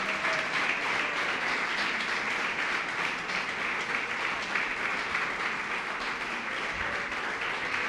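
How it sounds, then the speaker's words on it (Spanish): A church congregation applauds steadily throughout, a dense continuous wash of many hands clapping in a large room with no break. "Aplaudan al Señor y dele gloria a Dios."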